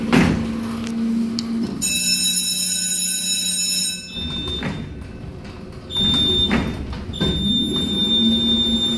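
Doors of a 1982 Montgomery G&P hydraulic freight elevator at a former JCPenney in Bellevue Square slide with a loud mechanical whine, a sustained buzzer tone and heavy clunks, and the sequence repeats.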